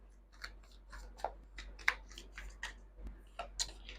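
Tarot cards being shuffled by hand, giving quiet, irregular papery flicks and soft taps in a loose rhythm, close and faint, with no talking.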